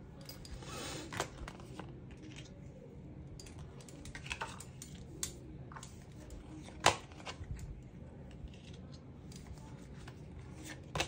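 Faint papery clicks and soft riffling as a deck of cards is shuffled and handled, quiet against a low background hiss.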